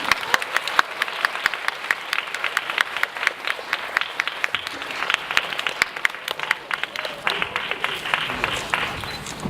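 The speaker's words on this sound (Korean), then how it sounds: "큰 박수로 두 분 맞이해주세요." A packed, sold-out Korean cinema audience applauds as a film director and an actress are welcomed onstage for a post-screening talk. The clapping is dense and sustained, with sharp individual claps standing out near the front, and a few voices mixed in.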